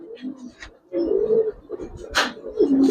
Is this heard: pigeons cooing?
yes